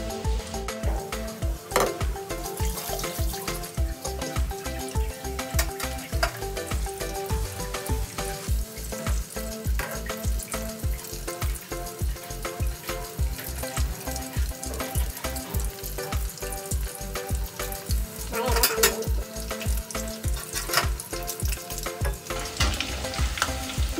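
Chilli garlic chicken kabab pieces fry and roast in oil, giving a steady crackling sizzle over a regular low thumping pulse that continues throughout.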